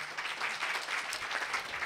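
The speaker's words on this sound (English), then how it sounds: "Let's give them all a great big round of applause." Brief burst of audience applause at a conference, a soft, fairly distant patter of many hands lasting under two seconds.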